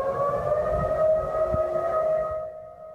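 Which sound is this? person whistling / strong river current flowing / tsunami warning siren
tsunami warning siren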